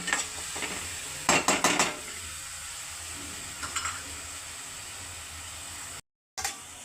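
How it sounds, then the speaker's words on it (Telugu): Chopped onions fry in hot oil in a cooking pot, a steady hiss and sizzle with a few quick clinks and scrapes of a spoon stirring, and no talk. "నూనె వీటెక్కిందండి. 1 కప్పు ఉల్లిపాయలు వేసుకున్నాను."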